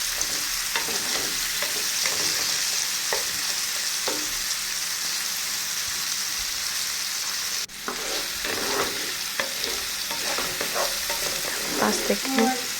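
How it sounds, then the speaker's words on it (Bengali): Small shrimp sizzle steadily in hot oil in a pan while being stirred to brown, with intermittent scraping and clinking from stirring over a constant close frying hiss and a brief utensil knock partway through. "যে চিংড়ি মাছগুলো একটু ভেজে নিব।"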